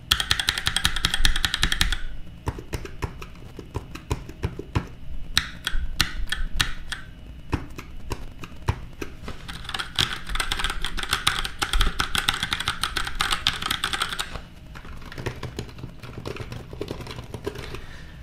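Rapid clicking of a Razer Huntsman Mini mechanical keyboard in bursts, clacky strokes near and loud, with brief pauses between typing runs and a low hum underneath.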